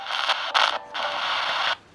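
A HexBox spirit box radio sweeps forward in its standard scanning mode, giving loud bursts of choppy static hiss that break off and restart, then one longer unbroken stretch, all close up with no talk.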